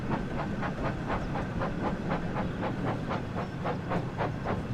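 Thomas the Tank Engine slows down in Train Sim World 5, a steady steam hiss with regular rhythmic chuffs or wheel clacks, continuous and loud with no talking.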